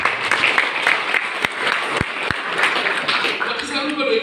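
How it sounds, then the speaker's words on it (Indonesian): Clapping fills a church during a Sunday service at GKPS Sipoldas, a sustained patter from the congregation with a few sharp thumps and some voices talking underneath. "Tepuk tangan lagi."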